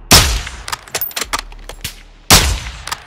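Sharp gunshots crack in the video game Call of Duty: Modern Warfare II: two heavy loud blasts with a burst of lighter rapid shots and metallic clinks between them.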